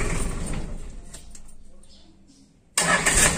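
A Land Rover engine, its starter motor just repaired after being submerged in river water, cranks and rumbles, fades off, then catches abruptly and roars loudly near the end.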